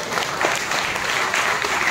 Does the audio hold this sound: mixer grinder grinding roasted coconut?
no